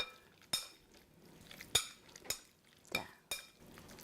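Quiet stir-frying in a pan with sesame oil: a spatula clinks and scrapes the metal every half-second or so, with a soft sizzle underneath.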